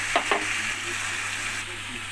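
Soybean curry with spices frying in oil sizzles steadily while a utensil stirs it, two quick scraping strokes at the start, then continuous hiss close by.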